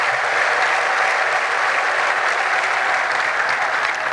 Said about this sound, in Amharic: እስኪ እልልታ ብቻ።